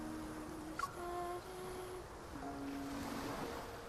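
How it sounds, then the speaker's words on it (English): Soft video game waves wash continuously against a shore under faint wind, with a few thin tonal chimes rising and fading above the surf. "The sound of the waves reverberates near my ears and slowly flows into my dark dream."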